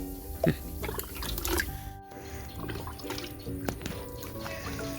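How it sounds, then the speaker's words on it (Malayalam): A cup of fermented rice water is poured onto newly planted Red Lady papaya, giving soft close trickling and dripping with a few brighter splashes, no talk over it. "ഇതിന് നമ്മൾ ഒരു കപ്പ് ഒഴിച്ചു കൊടുക്കുകയാണ്"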